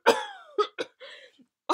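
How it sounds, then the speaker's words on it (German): A person's dry, persistent cough comes as a short series of harsh, separate bursts with brief gaps, close and clear with no talking. "es tut mir leid, dass ich gerade huste"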